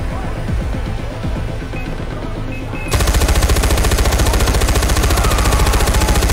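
Sustained machine gun fire in the video game Far Cry 4, rapid loud bursts starting quietly then jumping to a dense, continuous rattle for the last few seconds, with no talk.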